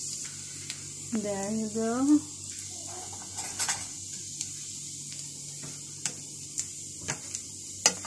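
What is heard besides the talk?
garlic frying in butter in a pan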